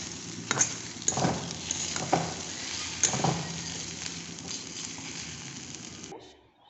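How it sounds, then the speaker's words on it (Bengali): Egg fry with spices sizzling in a pan while being stirred: a continuous close hiss of frying broken by several scraping stirs of a spatula, with a faint voice in the background. "মশলার পর এই এগ ফ্রাইটুকু দিয়ে দেবো, নাড়িয়ে নেবো।"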